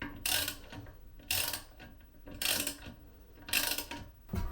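A socket wrench ratchets as it tightens a toilet tank bolt, with four separate bursts of close, bright clicking about a second apart over a low background.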